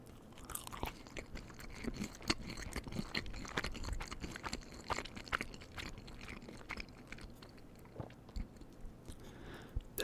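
Crunchy baked taquitos chewed close to the mic, dense crackling bites and steady mastication throughout with no speech.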